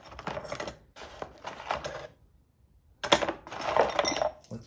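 A set of keys turns up during work on a 1955 Chevy project car and clinks and jingles as it is handled, in two close bursts of metallic rattling separated by a short quiet gap.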